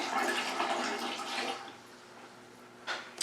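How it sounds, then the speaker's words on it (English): Water splashing and gushing steadily from a tap, loud at first then easing into a softer trickle, with a brief louder splash near the end. "And your water is running."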